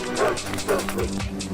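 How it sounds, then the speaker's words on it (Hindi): Village dogs chase a man, giving a quick run of several sharp barks and yips close by, loud and layered over a busy background. "गांव के कुत्तों ने दूर तक उसका पीछा किया।"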